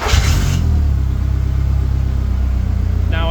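A car with a gearbox fault starts up in a garage and settles into a loud, close, steady engine rumble, with a faint higher whine near the end and no talking.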